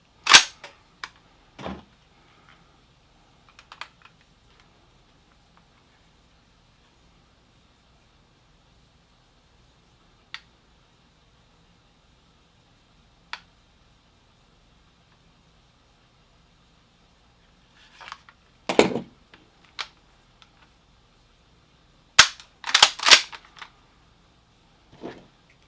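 Winchester SXP 20 gauge pump shotgun being dry-fired while its trigger pull is measured, giving a few sharp, sparse mechanical clicks and snaps spread across near-silence, with a denser cluster of clacks toward the end.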